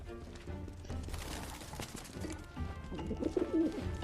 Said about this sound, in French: un pigeon.